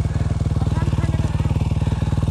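A trail motorcycle engine idles close by with a steady, rapid, even thumping pulse throughout.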